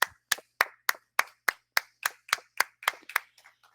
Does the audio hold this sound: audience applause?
yes